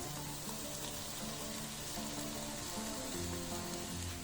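Cooked rice tipped into a pan of frying vegetables for fried rice sets off a steady, close sizzle and crackle, a continuous hiss with no talk over it.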